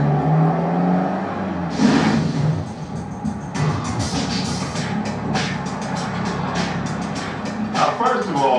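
A vintage British MGA with a 1600cc four-cylinder engine revs hard through its gears, the engine note climbing and falling in rising sweeps against a steady road rumble.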